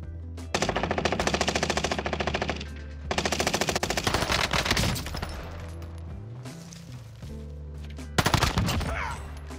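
Rapid automatic gunfire from the player's weapon in an online shooter, loud and close in three sustained bursts with short gaps, the last a sharp heavy burst that tapers off, no voices.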